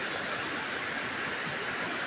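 Floodwaters from a swollen river rushing after days of heavy rain in Wera, Bima, NTB, heard as a dense, continuous roar of churning water, steady and close with no talk.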